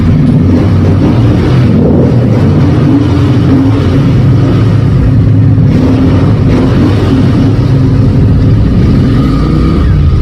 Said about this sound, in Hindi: Let's listen to the exhaust sound also, यहाँ पर बड़ा मज़ा आएगा सुनने में।